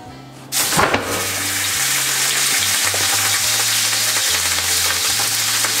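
A hamburger patty dropped into very hot oil in a home kitchen pan, bursting into a loud, steady, crackling sizzle that carries on without letup.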